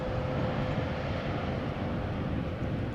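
An airliner landing at Amsterdam Schiphol Airport, a continuous low engine rumble and roar, steady and moderately distant, with no voices over it.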